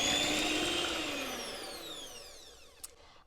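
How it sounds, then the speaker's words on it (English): Electric hand mixer whirring through buckwheat wrap batter, a loud high motor whine that slowly drops in pitch as it winds down and stops, ending with a small click. "grab a hand mixer and mix it."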